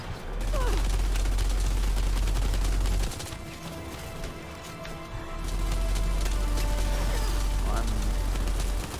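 Gunfire in the video game Gears 5, a loud sustained barrage with a thick low rumble that drops briefly in the middle before resuming, with scattered sharper cracks throughout.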